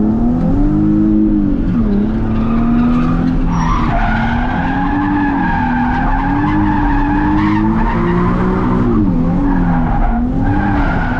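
A Nissan 370Z drifting, its tires squealing in long wavering howls over a steady loud engine roar, close and continuous throughout with no talk.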